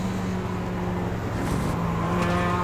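A race car engine in the iRacing sim drones loud and close, with a brief shift in pitch midway as the car downshifts, and no voices over it.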